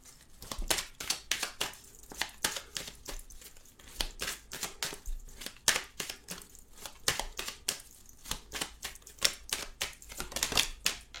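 Oracle cards are shuffled by hand: a steady run of crisp, dense riffling flicks and slaps, close and fairly quiet, with no talking.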